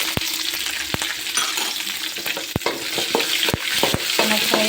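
Onions and coriander seeds fry in a pan with a continuous close sizzle, broken by repeated sharp scrapes and knocks of a spatula stirring against the metal.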